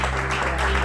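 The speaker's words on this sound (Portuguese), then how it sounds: "Pode sentar a igreja aplaudindo o Senhor Jesus, se você puder, com muita força" A church congregation applauds during a Holy Communion worship service, a brief, dense, steady wash of clapping at moderate loudness with no break.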